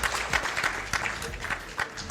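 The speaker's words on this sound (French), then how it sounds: "vous pouvez vous applaudir" Applause from a lecture audience in Roquefort-la-Bédoule: dense, steady clapping from many hands filling the room, with no voices on top.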